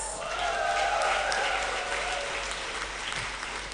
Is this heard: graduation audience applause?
yes